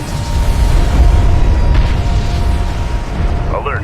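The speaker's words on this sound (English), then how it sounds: "Enemy artillery in the air." Heavy artillery booms rumble through a battle in Homeworld: Deserts of Kharak, a loud, continuous low roar of blasts with a brief sharper burst near the end.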